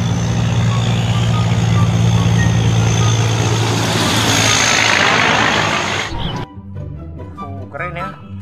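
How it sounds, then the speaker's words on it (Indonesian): A toy container truck gives off loud, continuous reversing beeps over a steady mechanical hum for about six seconds, then cuts off abruptly; a voice follows briefly afterward. "Truk kontainer lagi."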